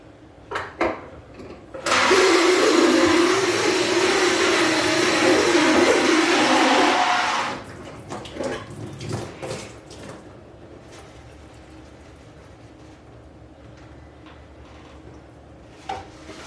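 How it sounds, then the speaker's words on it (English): Water runs into a glass wine carboy for a quick rinse, a loud, steady rushing pour lasting about five seconds, followed by quieter sloshing and handling knocks. "I'm just going to give it a quick rinse though."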